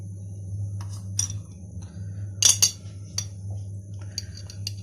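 A spoon adds red pepper powder to a dish of buttered chicken and potatoes, with a few light metallic clinks and taps against the container over a low steady hum.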